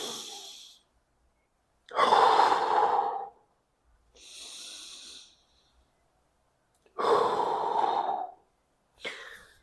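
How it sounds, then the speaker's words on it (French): Belly breathing during an isometric back squat hold: slow, deliberate breaths close to the mic, with long loud exhales alternating with softer inhales and pauses, about five breaths in all. "on va se concentrer sur notre respiration"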